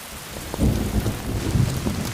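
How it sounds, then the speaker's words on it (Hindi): Steady heavy rain pours with low rumbling thunder rolling through, a loud continuous storm with no talking. "बारिश भी आपको जाने से रोक रही है।"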